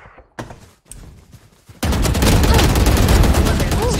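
Gunfire in the Valorant shooter game: after a few quieter sparse shots and clicks, a loud, dense burst of rapid firing takes over and continues without pause.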